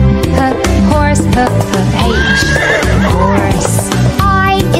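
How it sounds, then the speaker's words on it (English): A horse neighs over a continuous, loud backing of children's learning music, the whinny rising briefly in the middle and set among faint clip-clop-like beats. "H is for horse"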